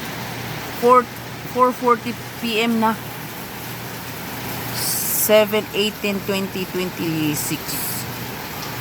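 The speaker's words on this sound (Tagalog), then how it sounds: "Update sa ulan, grabe ha." Heavy rain falls in South Korea as a steady hiss behind someone speaking in bursts, with a low hum running underneath throughout.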